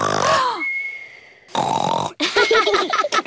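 A cartoon pig character's voice imitates loud snoring: deep, rasping grunts and snorts, close and loud, coming in bursts with short breaks between them.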